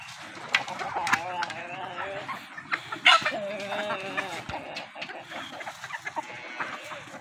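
Golden Misri hens cluck in short bursts close by, with a person talking over them throughout.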